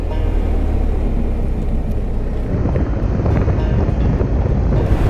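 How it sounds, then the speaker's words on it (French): A motorcycle rolls along a road in northern France under heavy, buffeting wind noise, with the engine droning low and steady beneath the gusts. "Je vous laisse profiter du son de la moto"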